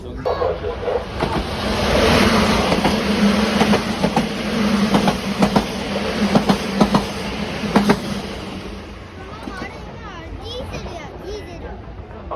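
An HO-gauge model Shinkansen N700 runs along an elevated track on a large museum layout in Kyoto, making a continuous rolling rumble with faint clicks that swells and then fades, with people talking in the background.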